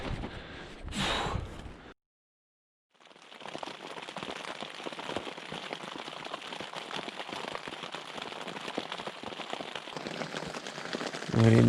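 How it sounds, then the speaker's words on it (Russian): Steady night rain pours down in a dense, continuous hiss after a brief pause, with a few soft breaths or sounds near the start, during a solo bike trip in the Altai. "Дождь только усилился, до сих пор идет."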